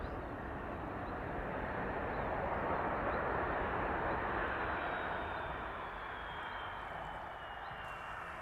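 Airplane landing on the runway at East Midlands Airport: a steady, broad engine roar that holds at moderate level for several seconds and tapers slightly at the end.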